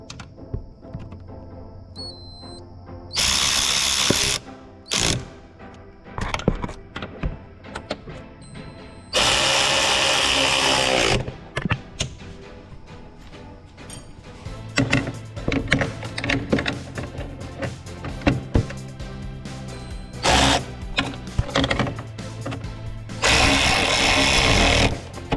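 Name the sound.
ratchet tightening three chaincase screws on Polaris snowmobile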